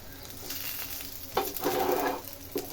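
Bele fish paturi fries in hot oil with a steady close sizzle, swelling into louder bursts of spitting crackle as the packet is moved in the pan.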